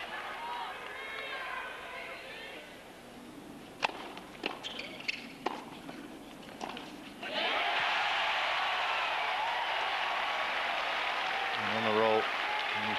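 At the US Open, a Sampras–Rusedski tennis crowd falls quiet through a rally of ball strikes, then bursts into loud, sustained cheering and applause from a large stadium audience, with commentary voices heard briefly.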